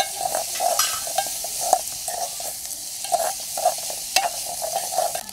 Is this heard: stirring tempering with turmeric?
yes